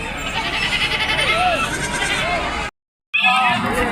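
Goats bleat loudly and repeatedly at a crowded goat and sheep livestock market, several close calls overlapping with a brief silent gap before more bleating and voices.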